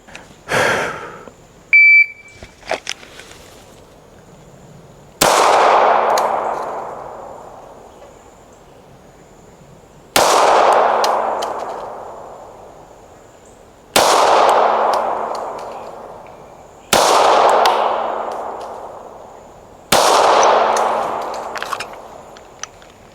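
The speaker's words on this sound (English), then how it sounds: "Take 5 shots at 5 yards and then plink the steel in the back a little bit" Handgun fire at an outdoor range, a few sharp cracks close together at the start, then five well-spaced loud shots, each with a ringing steel-target clang and a decaying echo.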